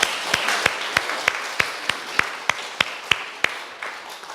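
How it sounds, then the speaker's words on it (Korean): A church congregation claps in unison, a crisp, steady beat of about a dozen sharp claps evenly spaced through a few seconds, close and clear over a soft room hum. "작은 일에 충성한 사람을 칭찬하시는 신실하신 우리 주님께 박수로 영광 돌리십시다."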